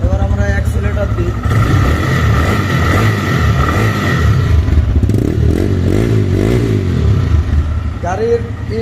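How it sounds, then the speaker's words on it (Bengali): A 2022 TVS Raider 125cc motorcycle engine is revved from idle, rising and falling with a rattly exhaust note, close and loud, with a voice speaking briefly. "এবার আমরা অ্যাক্সেলেটার দিই।"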